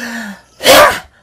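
A person's voice imitates an enormous sneeze, with a brief intake followed by one loud, explosive burst that fades quickly.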